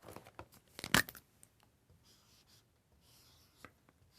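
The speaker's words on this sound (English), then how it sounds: "So let's write that down over here." Pen or pencil scratches across paper while a card count is jotted down, with one brief louder scrape and rustle, then faint short strokes, close and quiet in a silent room.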